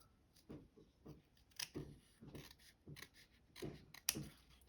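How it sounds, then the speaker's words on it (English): Scissors trim the edges of paper pages, heard as a series of quiet, close snips and crisp paper rustles in an irregular rhythm. "Let's give these a quick cut, just to trim the edges down."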